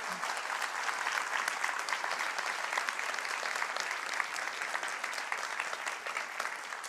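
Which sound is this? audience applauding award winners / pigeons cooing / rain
audience applauding award winners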